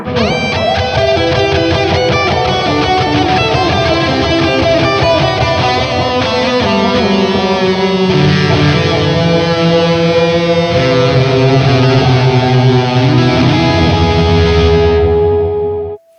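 Heavily distorted electric guitar plays sustained, ringing chords washed in reverb, loud and continuous before cutting off at the end.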